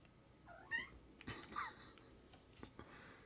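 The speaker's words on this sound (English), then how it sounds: "you talk to this cat, she'll talk to you" A house cat gives a few short chirping meows close by at low volume, scattered among quiet rustling and soft handling noises in an otherwise calm room.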